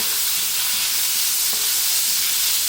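Onions fry over high heat in a pan for lentil stew, a continuous, fairly loud sizzle with faint stirring clatter and no talk.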